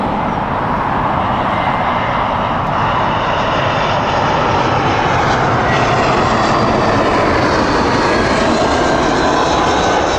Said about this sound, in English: Airbus A320 from British Airways